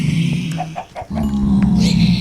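Chickens in the Minecraft video game give several short clucks close up, over a low droning background.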